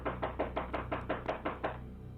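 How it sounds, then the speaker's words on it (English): Eight even knocks on a front door in a quick, steady rhythm, loud and close, with no voices between them. "I'm knocking on the door, there's nobody answering."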